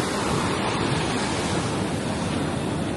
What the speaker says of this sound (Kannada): ಅಲೆ ಇನ್ನು ಅಲೆ ಕೂಡ ಇನ್ಕ್ರೀಸ್ ಆಗ್ತಾ ಹೋಗುತ್ತೆ